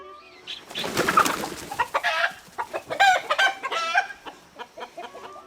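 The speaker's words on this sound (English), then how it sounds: "All I can see now is a bunch of chickens scattering." Chickens cluck and squawk in a busy, overlapping flurry, close by and lively, with sharp calls scattered throughout and no one talking.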